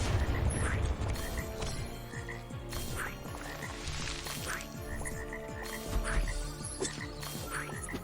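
Repeated frog croaks in the video game Transformice, loud rhythmic ribbits pulsing every half second or so, continuous and close.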